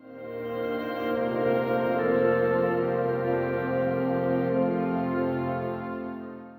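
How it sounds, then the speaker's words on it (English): An aircraft engine undergoing a test run nearby makes a steady, loud droning hum with layered tones, holding a constant level without break for the whole stretch. "Sorry about the plane testing over there."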